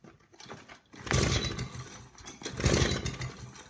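A 15-year-old lawn mower engine is pull-started in two rough, rattling surges that sputter but do not catch.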